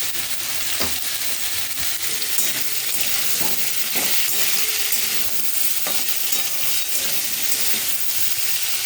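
White potatoes fry and sizzle loudly in a pan with asafoetida as a utensil stirs and scrapes them, a constant close hiss broken by regular scraping knocks, no voices.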